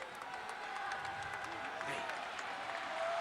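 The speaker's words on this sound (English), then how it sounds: "Crowd back on their feet again." Basketball arena crowd at a college game between VCU and ODU, a sustained roar of cheering and applause throughout, with faint announcer-like talk underneath.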